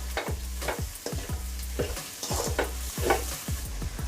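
Cooked rice and readymade fried rice mix powder are stirred in a frying pan, with repeated rhythmic spatula scrapes and thuds over a constant close sizzle, and no talking.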